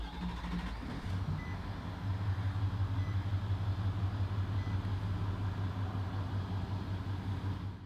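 A 2016 Nissan Titan XD Platinum Reserve pickup's engine starts about a second in, then settles into a steady, low, even idle rumble that carries on alone to the end.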